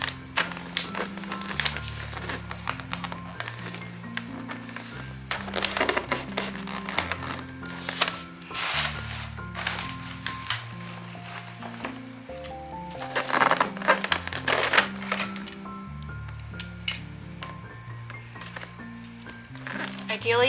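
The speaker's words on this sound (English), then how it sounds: "This paper makes a lot of noise." Wrapping paper crinkles and rustles in bursts while a present is wrapped, close and fairly loud, under steady talking with soft music playing along.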